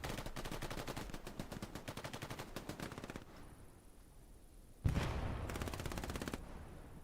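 Gunfire in the World War II shooter game Hell Let Loose on the Kursk map, with rapid machine-gun bursts, a short lull, then a sharp loud shot and more sustained automatic fire.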